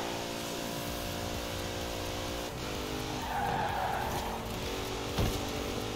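Car tires skid and squeal in the racing game Forza Horizon 4 over a steady engine drone, holding loud and continuous with a brief sharper burst near the end.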